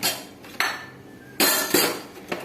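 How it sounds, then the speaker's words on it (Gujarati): A nonstick kadhai pan is set down in a home kitchen, giving a few metallic clanks and scrapes in quick succession, close and fairly loud with no voices. "અહીંયા કઢાઈ લેવાની છે નોનસ્ટિકની"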